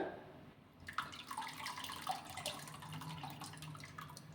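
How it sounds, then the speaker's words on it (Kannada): Soaked tamarind juice is poured into a cooking pot, a quiet, close trickle and splash of liquid with small drips and clinks, faint and alone. "ಈ ಹುಣಸೆ ಹಣ್ಣಿನ ರಸನ ಹಾಕ್ಕೊಳ್ಳೋಣ"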